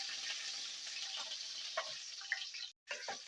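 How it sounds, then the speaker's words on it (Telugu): Green chillies fry in a pan for gobi rice, giving a soft, steady sizzle with a few light ticks and pops, fairly quiet and briefly cutting out near the end. "పచ్చిమిర్చి అయితే వేగిపోయింది ఫ్రెండ్స్ ఇందులో ఉల్లిపాయ ముక్కలు వేసుకుంటున్నా"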